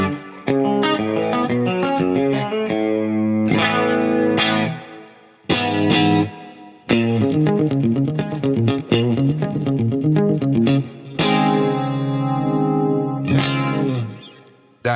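Electric guitar through a Quad Cortex chorus preset, shimmering chords and arpeggiated notes with a wide modulated wash and sustained ringing tails, played alone with brief pauses between phrases.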